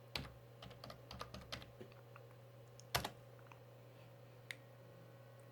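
Computer keyboard typing a folder name: a quick run of faint, close key clicks, then a single louder tap and a few scattered clicks over a steady electrical hum, with no voices.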